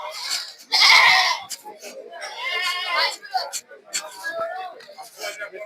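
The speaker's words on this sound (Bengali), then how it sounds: "এই যে দেখেন অনেক ছাগল" Goats bleat repeatedly at a busy cattle market in Sreepur bazaar ahead of Eid, with a loud nearby bleat standing out over crowd chatter and people talking throughout.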